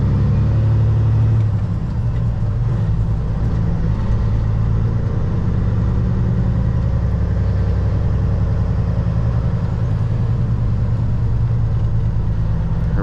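Kenworth W900 semi truck with an 18-speed transmission running through a double-clutch shift, a steady low diesel engine rumble heard from inside the cab, loud and continuous with no distinct shift events.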